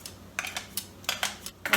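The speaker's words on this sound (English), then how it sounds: "I just use my scissors to make a smaller piece." Scissors cutting vegetables into smaller pieces for a plant-based breakfast: a series of sharp, crisp snips in an irregular rhythm, close up and fairly quiet, about eight cuts with short pauses between.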